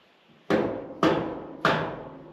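Three loud metallic bangs, evenly spaced about half a second apart, ring out close by as a pallet rack part is tapped into place in a barn, each strike decaying briefly.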